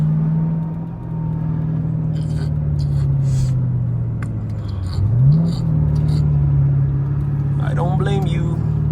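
A Camaro SS engine pulls hard in first gear, a loud low rumble that climbs steadily, dips briefly and then surges again as it revs. Road and cabin noise sit underneath, and someone talks briefly over it.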